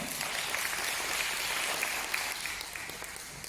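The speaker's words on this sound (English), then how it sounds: "So big round of applause to Alan." Audience applause at an Australian citizenship ceremony for Australia Day, a steady wash of many hands clapping, fairly faint and distant, sustained throughout with a slight fade toward the end.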